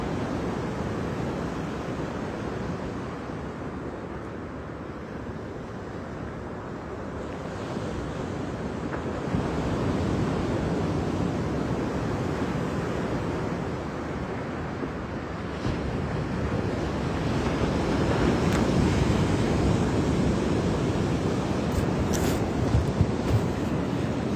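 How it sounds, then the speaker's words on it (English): Ocean waves wash in and roll back continuously, a broad rushing surf with gusty wind noise, swelling louder at times, no voices. "let you just hear that beautiful sound of the ocean"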